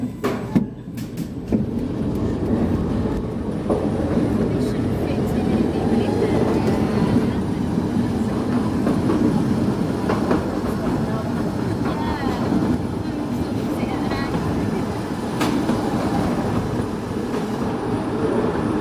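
The Royal Mail Mail Rail underground train rumbles and rattles steadily through a narrow tunnel in London, with continuous loud wheel and carriage noise and faint clicks.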